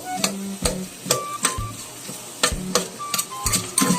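Chopped onion sizzling in hot cooking oil in a pan for ginisang sayote, with sharp clattering taps of a utensil against the pan recurring over steady frying crackle.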